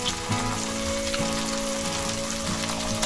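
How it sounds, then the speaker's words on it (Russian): Meat sizzles and crackles steadily in a hot pan, a close, continuous frying hiss with small pops and no talking. "Пока мясо жарится"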